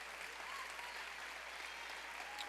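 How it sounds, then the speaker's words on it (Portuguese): A church congregation claps together in a soft, continuous patter of applause that sounds fairly distant and low in level. "Dá uma salva de palmas para Jesus."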